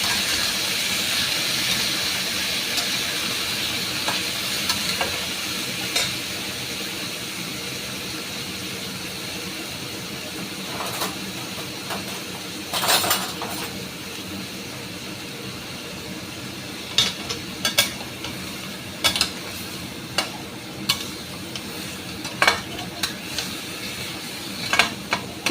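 Chicken pieces frying in oil over a high flame give a steady, broad hiss for the whole stretch, with brief sharper crackles and pops breaking through now and then.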